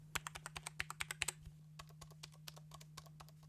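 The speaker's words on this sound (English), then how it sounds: "if we do compare the click sound with the OP1 Field" Button presses on a Teenage Engineering EP-133 K.O. II sampler: a quick series of sharp, close plastic clicks, then a sparser run of softer taps, over a steady low electrical hum.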